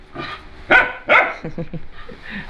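Several dogs barking at close range outdoors, giving a few loud sharp barks followed by quicker smaller yips.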